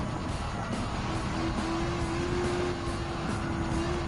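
Supercars race in Gran Turismo 7, including a Ferrari F12 Berlinetta, a 2009 Mercedes-Benz SLR McLaren and a Lamborghini Diablo, with a steady, loud engine drone and a rising whine as cars pass one another.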